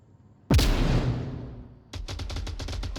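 A grenade blast bursts loudly and decays over a second in the VR shooter Onward, then rapid automatic gunfire rattles in a quick steady burst, all close and with no speech.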